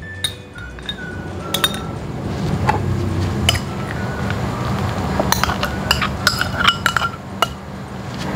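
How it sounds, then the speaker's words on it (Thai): Shrimp and salt are pounded together in a mortar for a Thai crispy shrimp pancake, producing steady repeated thuds with scattered clinks, close and busy over a noisy kitchen background. "ตอนนี้เราก็จะมาโขลกรวมกันเลยนะคะ"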